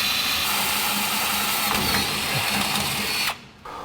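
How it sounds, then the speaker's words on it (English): Electric drill boring steadily through the steel subframe of a 1949 Chevrolet gasser to mount an engine ground, a continuous loud whine that runs for about three seconds before cutting out abruptly. "drilling a hole for the ground for the engine"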